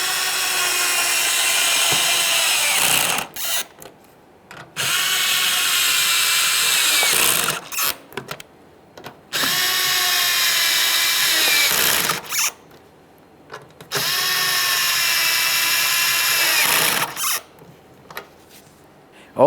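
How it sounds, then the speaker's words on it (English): A power driver tightens T20 screws on a third brake light of a 2015-2020 Ford F-150 in four loud, whirring bursts of about three seconds each, separated by short pauses and clicks. "Using our T20, let's snug them up."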